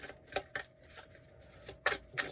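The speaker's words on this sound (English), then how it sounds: "Do 3 more shuffles here." Tarot cards are shuffled in a few quick, soft riffling bursts, close and quiet, with short pauses between them.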